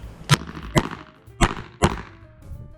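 Four sharp, loud gunshots ring out at an IPSC practical shooting stage in Australia, irregularly spaced at close range, each followed by a short echoing decay.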